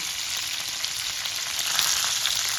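Loud, steady sizzling of curry leaves, mustard seeds, cumin and sesame tempering in hot oil, a continuous bright hiss close by with no talking.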